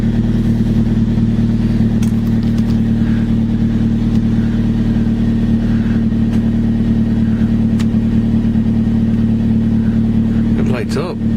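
A Toyota Corolla engine runs steadily just after start-up, a loud, constant low idle hum close by that holds for the whole stretch, with a brief rattle near the end.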